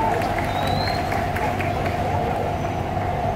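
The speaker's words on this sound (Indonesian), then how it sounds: "Tepuk tangan untuk kita semua untuk memeriahkan hari ini." A protesting student crowd applauds outside the presidential palace, a dense, steady wash of clapping and crowd noise that holds at an even level throughout.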